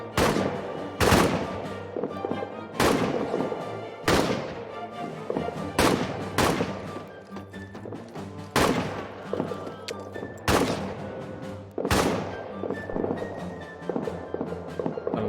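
Gunfire in a WWI trench warfare video game: loud, repeated bursts of shots and blasts spread through the clip, with rapid volleys and heavier booms over a steady battlefield din.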